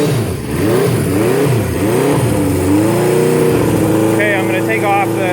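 Engine of a 1976 Honda CB750 motorcycle during a cold start, revving up and down in repeated swells before settling into a steadier high drone, loud and close, with a person's voice briefly heard near the end.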